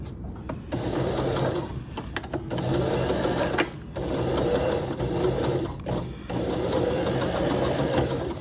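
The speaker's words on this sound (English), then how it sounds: "I'm gonna start here even though it's not at the edge. I just wanna start clear of a pin in between pins. And then I'm gonna back stitch a wee bit." A sewing machine stitches a tote bag in several long, loud, continuous runs with short pauses between them, including a brief back stitch.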